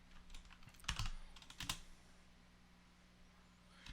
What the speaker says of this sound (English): So we can start typing cd